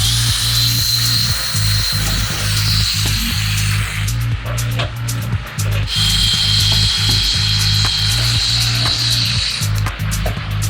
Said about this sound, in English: just run this drill bit straight through the edge of the panel into the quarter